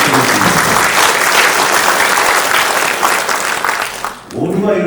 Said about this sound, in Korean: 이 의원님께도 격려의 박수 부탁드리겠습니다.